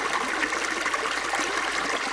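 Water flowing steadily in a small roadside ditch, a continuous close bubbling and trickling wash with no voices over it.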